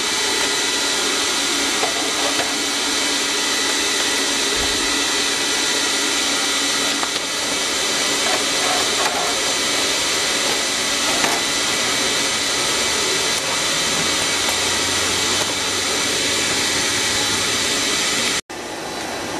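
Steady loud roar of a furnace burner melting aluminum, a continuous jet-like whoosh that holds constant for the whole stretch before briefly cutting out near the end, with no voices.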